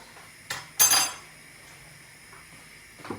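A spoon scrapes and clinks against a pot of Turkish semolina pudding being stirred after vanilla is added, with two sharp metallic clatters early on and then quieter faint scraping.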